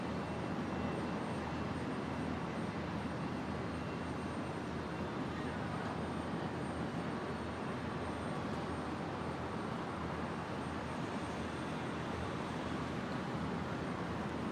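A Qantas Boeing 737 takes off at Brisbane Airport, heard as a steady, faint, distant engine roar that holds an even level throughout.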